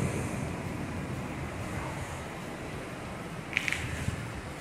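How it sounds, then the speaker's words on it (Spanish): A waterfall and river at an old power station rush in a broad, constant roar heard from a distance through a window, with wind buffeting the microphone. "la cascada, el río."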